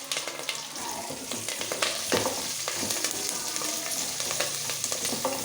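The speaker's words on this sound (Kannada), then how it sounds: "ಈಗ ಈರುಳ್ಳಿ ಮತ್ತು ಕರಿಬೇವಿನ ಸೊಪ್ಪು ಹಾಕ್ಕೊಳ್ತಾಯಿದ್ದೀನಿ" Onion and curry leaves frying in hot oil with dried red chillies, a dense, close sizzle with stirring scrapes throughout, loud and continuous, no voices.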